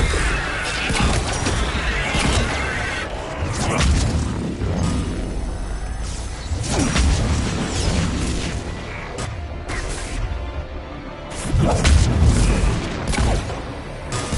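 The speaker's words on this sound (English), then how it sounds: "Missiles are hot." Missile blasts in the sci-fi shooter Mass Effect 3 roll through as heavy, loud booms and crashes over dense battle noise, with a strong burst of explosions near the end.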